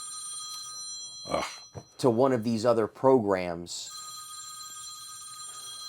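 A telephone rings steadily through an interview, its electronic trill running before and after a man's speech and carrying on beneath it.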